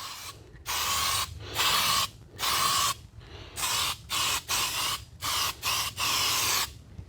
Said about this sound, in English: When you finish spraying with a can, always turn it upside down and just get all the excess out and then just wipe the nozzle